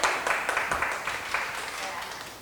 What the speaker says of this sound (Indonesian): Tepuk tangan buat model kita hari ini